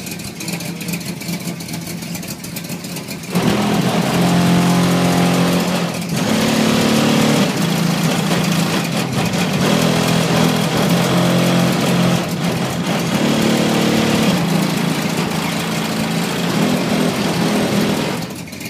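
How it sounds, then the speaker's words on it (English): A car engine with an exhaust leak starts up and runs loudly with a rough, raspy drone, revving up and down over a sustained stretch, with no one talking. "exhaust leak too, so the car running a little loud"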